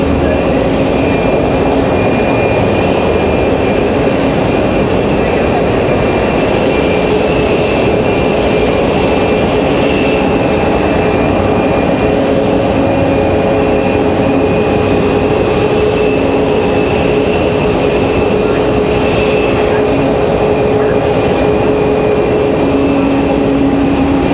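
A Boeing 737 MAX jet at Raleigh-Durham airport fills the scene with a loud, steady engine roar and a sustained high whine, unbroken and close, with no voices over it.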